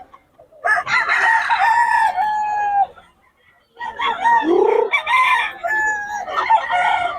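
Chickens at a poultry market in Bocaue: close, loud rooster crowing in two bursts separated by a short pause, with clucking fowl mixed in.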